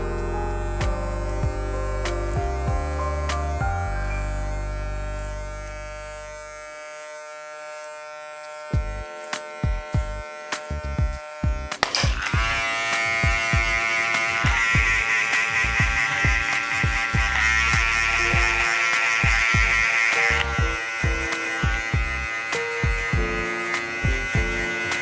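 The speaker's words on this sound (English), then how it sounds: "I'm gonna clip over comb this little dark area" Electric hair clippers working clipper-over-comb on a dark patch during a high skin fade, a buzzing harmonic motor hum that briefly drops away, then resumes with rapid rhythmic snipping clicks as hair is cut close up.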